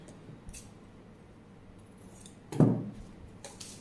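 Scissors snipping fabric for a long lined pencil skirt, a single quick cut standing out faintly from a quiet room, with a few soft handling clicks around it.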